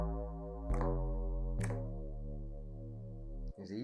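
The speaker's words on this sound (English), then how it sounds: "So now your sine wave will sound like this." Sine wave synth patch in Native Instruments Massive, with its pitch cutoff slider nudged slightly, plays a steady low tone with a couple of brief attacks, electronic and alone without talking.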